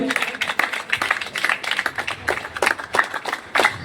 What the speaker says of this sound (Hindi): एक बार जोरदार तालियां हो जाए सभी बच्चे